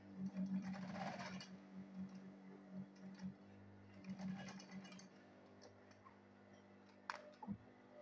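Sewing machine stitching a zip and lining into a handbag, a quiet run of steady mechanical whirring with short stops and restarts, fading to near silence before a brief clack at the end.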